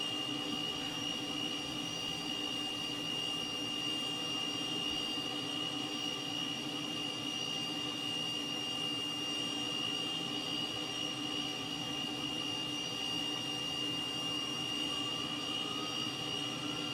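A steady, loud jet engine roar from a Cessna T-37 Tweet starting up in the Microsoft Flight Simulator 2020 game, with a high-pitched whine held constant throughout, no voices, a continuous mechanical drone.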